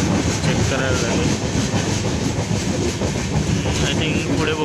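The Mandavi Express on the Konkan Railway near Chiplun, heard from inside the carriage as a loud continuous rumble with rhythmic clickety-clack from the wheels and a faint voice underneath.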